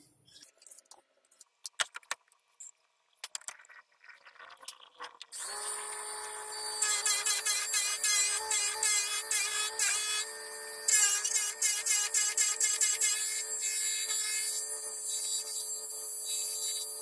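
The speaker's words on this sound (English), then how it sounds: "So I'm just going to turn up the Sierra pen real quick" A wood lathe spins up and turns a resin Sierra pen blank in a workshop, a steady high whine with rapid scraping and chattering cuts that start and stop, close and fairly loud after a few quiet clicks and handling noises.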